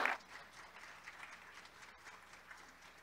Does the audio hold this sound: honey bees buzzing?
no